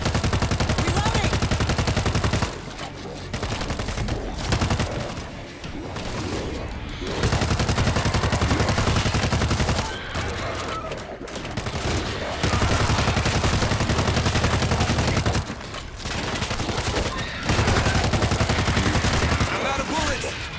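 Sustained automatic gunfire roars almost nonstop through a World War Z zombie fight, dense and loud, broken by a few brief pauses and reloads.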